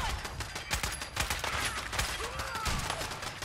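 Automated turrets fire in Fallout 4, a dense continuous volley of gunfire with rapid overlapping shots holding steady at moderate level for a few seconds.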